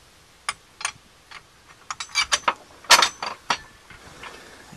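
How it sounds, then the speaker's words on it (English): A socket wrench bolting an Ultra Racing chassis bar into place on a 2008-or-later Honda Accord, a quick series of faint metallic clicks and ratcheting ticks close by, with no talking. "And you just bolt it in place."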